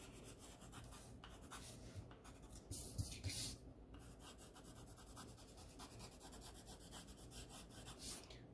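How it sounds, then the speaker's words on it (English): A pencil sketches across paper while shading a dragon eye, giving soft, continuous rubbing and scratching strokes, close and quiet, with a slightly firmer burst of scraping midway. "I'm just sketching it so that it looks"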